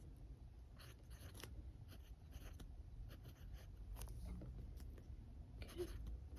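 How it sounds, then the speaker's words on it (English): A fine-nib Ferris Wheel Press fountain pen filled with shimmering ink scratches softly across paper in light, intermittent strokes, close but faint over a steady background hum. "such a smooth writing, even though this is a fine nib and"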